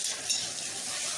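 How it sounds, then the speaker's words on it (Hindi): Vegetables sizzle steadily in a hot pan as they are tempered, a close, continuous bright hiss with no voices. "तो सब्जी यहाँ मैंने छौंक दी है"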